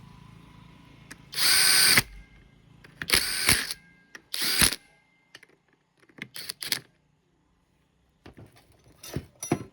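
A power drill tightens a small screw, giving several short whirring bursts of one to two seconds separated by pauses, then quicker brief pulses, loud and close with no talk.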